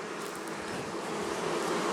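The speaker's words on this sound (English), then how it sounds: "Oh, there's a lot of bees there." Dense, steady buzzing of many honeybees around an open hive during a hive check, close and continuous with no talk.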